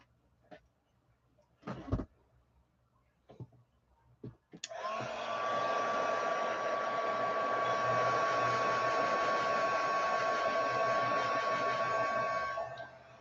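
Hair dryer blowing to dry craft blobs: a few soft knocks and handling sounds, then a steady whirring blast that starts abruptly and holds evenly for about eight seconds before cutting off.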